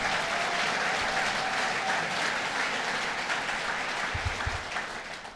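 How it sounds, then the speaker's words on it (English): A hotel function room fills with loud, continuous applause from a crowd at a governor's announcement, the dense clapping holding steady for several seconds and easing slightly at the close. "Let's give him a round of applause and thank him."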